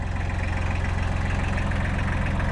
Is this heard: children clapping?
no